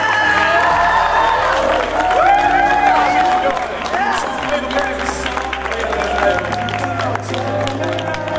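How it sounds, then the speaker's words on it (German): Studio audience on a German youth TV show applauds and cheers loudly for the arrival of guests, a dense sustained wash of clapping and shouts with voices mixed in throughout. "Applaus bitte!"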